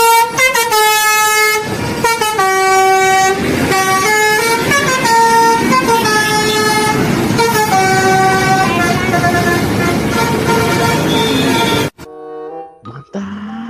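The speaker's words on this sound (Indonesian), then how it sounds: "Yang ini ada bus Subur Jaya teman-teman." A Subur Jaya bus sounds a loud multi-tone horn, a long sequence of bright, melodic blasts close by with engine rumble underneath, then it cuts off abruptly into quieter road noise.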